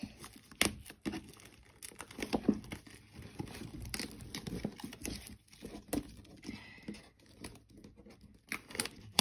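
Someone struggles to tear open a sealed trading card pack, producing quiet, irregular crinkling, rustling and short tearing rips in scattered bursts, close to the listener.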